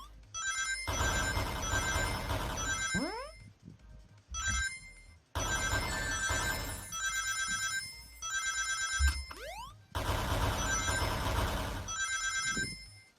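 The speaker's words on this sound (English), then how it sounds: "I love Atari sound effects." Retro Atari-style video game sound effects in a Sonic animation: three loud bursts of buzzy, beeping chiptune tones with quick rising and falling sweeps, separated by short gaps, and no talking.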